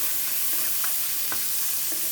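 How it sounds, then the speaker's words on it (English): Garlic sautéing in a pan for afritada, a steady close hiss of frying with a few light stirring clicks and scrapes. "I'm starting to saute the garlic now for my version of Afritada."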